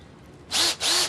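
Two short bursts from a Bosch lithium-ion power drill, each a close, loud, high-pitched whir that spins up and stops quickly, separated by a brief pause.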